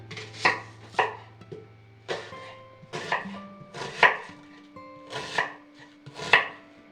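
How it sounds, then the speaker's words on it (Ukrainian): A knife chops an onion in a steady series of sharp, close strikes on a cutting board, about one per second, with a faint hum underneath. "Нарізаємо цибулю."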